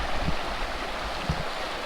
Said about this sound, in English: Very soothing to listen to the sound of the creek through the night.